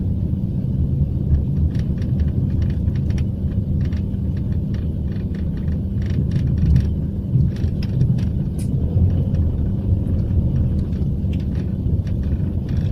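A loaded truck rolls along a road with a low, steady engine rumble and road noise close by, faint clicks and rattles from the cab over the drone.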